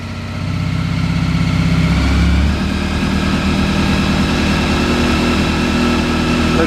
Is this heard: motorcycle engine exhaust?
yes